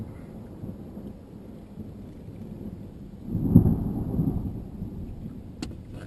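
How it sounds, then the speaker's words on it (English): Thunder from a thunderstorm at Crystal Lake rolls in midway, a deep rumble swelling to a peak and fading over steady background rain, with no speech. "The thunderstorms are here"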